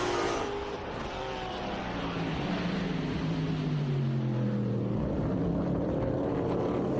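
Race cars at Road America's turn 5 roar past in a close overtake during a Trans Am-style road race, loud continuous engine tones sweeping down in pitch as they pass and fade.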